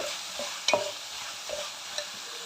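Chopped tomato stirred into frying chicken masala, a low sizzle with a few clinking spoon strokes against the pan, spaced out and without talk.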